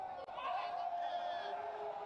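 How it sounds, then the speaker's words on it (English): A boxing stadium crowd at Lumpinee cheers wildly during a Thai boxing bout, a steady, roaring wash of voices and whoops held at a constant level for two seconds with no single voice standing out. "Crowd going wild."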